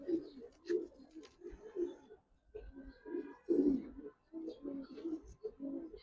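Nazra Kaldom pigeons cooing nearby in a steady series of soft, low, rounded coos with short pauses, fairly quiet and close, with no clear talking over them.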